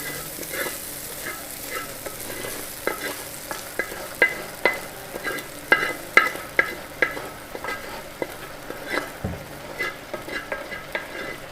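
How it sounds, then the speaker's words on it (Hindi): Okra being stirred into an onion and tomato masala for dhaba-style dahi bhindi, with the heat off, gives repeated close scraping and clacking stirring strokes over a low background sizzle, growing busier toward the end. "अब इनको मिक्स कर लेना है प्याज और टमाटरों को अच्छी तरह भिंडियों में"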